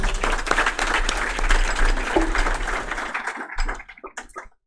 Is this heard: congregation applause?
yes